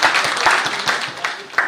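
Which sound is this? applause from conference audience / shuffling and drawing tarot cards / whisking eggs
applause from conference audience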